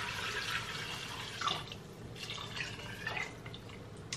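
Chicken stock is poured from a bowl into a cooking pan, producing a close, trickling and splashing liquid stream with small drips and irregular bursts, moderately quiet and without speech.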